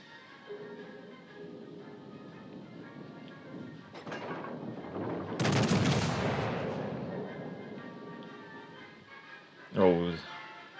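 Battleship Hood's bow turret guns fire in a naval video game, a deep booming salvo that swells and rolls on for several seconds, then a sharper blast near the end, with someone talking throughout.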